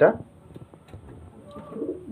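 A Matras pigeon hen gives soft, low coos close by, after a brief louder burst at the start, with faint background noise.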